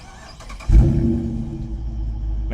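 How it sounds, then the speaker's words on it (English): A 2019 Dodge Charger R/T engine fires up by remote start at night: a sudden loud crank-and-catch burst, then a deep, steady rumbling idle that holds close and strong to the end. "And the car roars to life."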